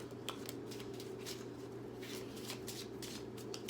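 A deck of playing cards being shuffled close by, with a steady riffling patter of repeated quick bursts over a constant low background hum.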